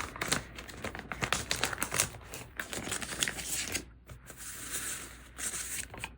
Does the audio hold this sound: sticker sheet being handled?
yes